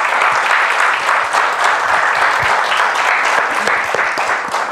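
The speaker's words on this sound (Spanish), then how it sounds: "Un aplauso." A church congregation at a Japanese service claps together in sustained, dense applause, loud and steady with no talk over it.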